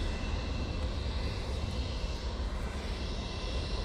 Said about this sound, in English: It is EK21 coming in from Dubai using the Emirates A380 in the Courier Express livery.